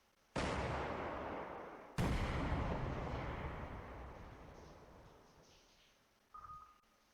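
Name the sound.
bombing explosions in the video game Command Modern Operations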